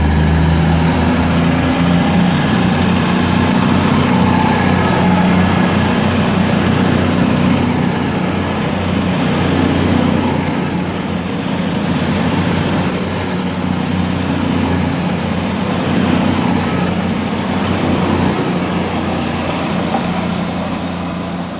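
Class 220 units 220-020 and 003 depart Stafford on the West Coast Main Line with a loud, steady diesel engine drone and rising whine as they pull away, close and continuous throughout.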